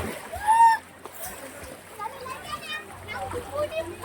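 Water splashes in a swimming pool, with a burst of splashing near the start and lighter sloshing afterward, while children's voices chatter and call out throughout.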